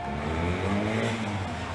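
The new Prime Minister Boris Johnson's car speeds away, a steady engine roar that stays loud for the whole short stretch, with a faint crowd murmuring behind it.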